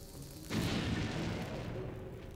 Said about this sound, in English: I'm gonna try bombing this.